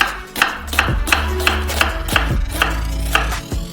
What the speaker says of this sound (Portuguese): Cortamos uma cebola grande ao meio. Fazemos cortes transversais.